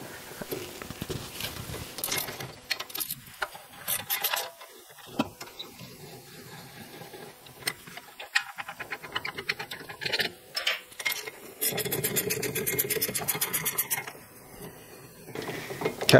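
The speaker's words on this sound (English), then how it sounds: "Next I want to undo my caliper mounting bolts." A 10 mm Allen key loosens the brake caliper mounting bolts on a Porsche Boxster during a brake and rotor job. Close metallic ratcheting clicks come in irregular bursts, with a faster run of rapid clicks near the end and no talking.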